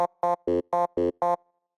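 Six short, evenly spaced notes from the ML Add iFunk synthesizer lead preset, with a bright, buzzy harmonic tone, each cut off cleanly, then a brief fading tail.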